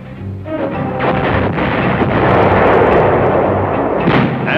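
Field artillery firing in archival US Army film from the early 1940s: a loud, rolling boom that swells into a long rumbling roar, heavy and muffled, with no talk over it.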